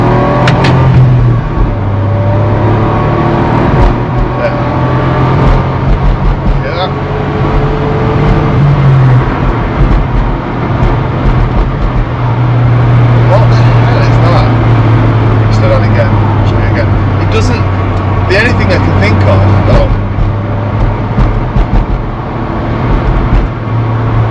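A car pulls off a roundabout and accelerates hard at full throttle, its engine droning loud and steady close to the microphone for the whole stretch, with someone talking over it.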